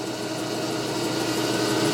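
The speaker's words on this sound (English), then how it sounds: "now we're going to grind these corners, make it round" A glass grinder steadily rounding the corners of a glass pane, giving a constant, dense whirring and hissing drone with no breaks or talk.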